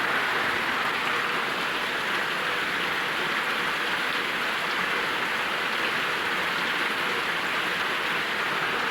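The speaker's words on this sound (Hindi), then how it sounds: "इतना ज़्यादा बारिश हो रही है ना, बहुत ज़्यादा बारिश हो रही है।" Heavy rain pours steadily as a dense, even hiss that stays constant and fairly loud throughout, with no voices over it.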